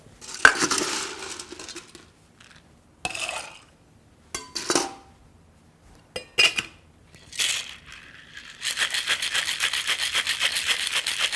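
A cocktail flavored with orange bitters gets ice dropped in with clinks, then several bursts of ice rattling hard inside a shaker, ending in a long, continuous rattling pour, all close up with no speech.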